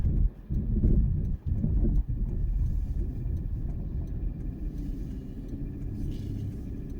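Steady low road rumble and engine drone from inside a moving car, continuous and fairly loud with no voices.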